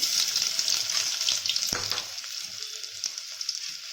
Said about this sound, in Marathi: तेल गरम झालेलं आहे मी ही मोठा एक चमचा भरून आलं लसणची पेस्ट टाकणार आहे